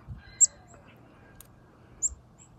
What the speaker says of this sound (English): Black-capped chickadee.